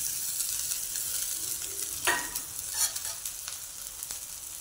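Spices, green chili, ginger and garlic sautéing in a pan with coriander and cumin powder, a steady soft sizzle with a few brief stirring scrapes, moderately close.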